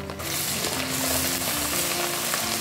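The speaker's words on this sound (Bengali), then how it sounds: "মশলাগুলো একটু কষিয়ে নেব।" Ginger and garlic paste sautéing with light-browned onions in a pot for Malay chicken biryani: a steady, close, loud sizzle with occasional stirring scrapes, no talking.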